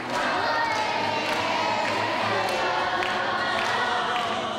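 A big crowd at a school Shabbat gathering, dense and continuous, with many children's voices singing, shouting and cheering together and some thuds mixed in.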